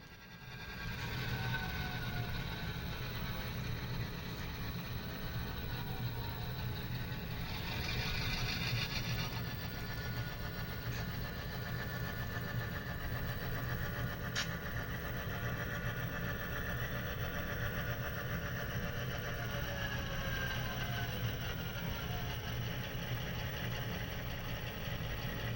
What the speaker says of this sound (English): that low rumble you hear throughout this video is the air conditioner pumping cool air throughout the house